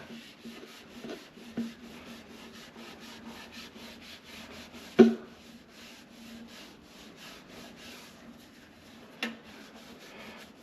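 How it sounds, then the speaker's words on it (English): Steady hand rubbing at oxidation on a metal planer, a continuous soft scrubbing with a couple of sharper knocks, close by and with no speech. "I'm gonna see what it does just by rubbing the oxidation."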